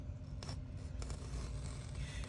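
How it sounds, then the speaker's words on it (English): A seam ripper slides under the stabilizer and cuts stitches along a zipper seam on a clutch bag, producing a few soft snipping ticks and light scraping, faint and close against a low steady background hum. "I get my seam ripper and I peek it up here underneath the stabilizer so I can see the blade"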